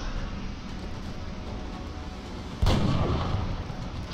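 A single heavy sniper rifle shot from the XCOM Long War video game cracks out loud and close after a steady low ambient rumble, its booming tail lingering to the end.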